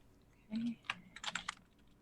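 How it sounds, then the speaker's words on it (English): A computer keyboard clicks in short, quiet bursts, a few scattered keystrokes followed by a quick cluster of taps, close and soft with no speech over it. "sorry for everybody who's hearing my typing ASMR as I make this note real quick"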